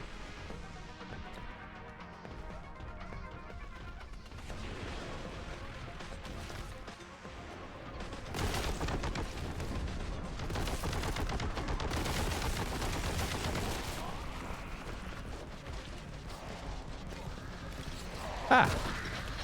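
Gunfire in the retro shooter Boltgun: a sustained burst of rapid shots and crashing impacts swells midway and carries on loud for several seconds, then ends in a sharp final blast.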